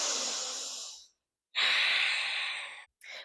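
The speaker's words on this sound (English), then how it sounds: "One more full breath." Deep breaths during a yoga pose, two long, loud, close exhales separated by a silent pause, with the start of a third at the end.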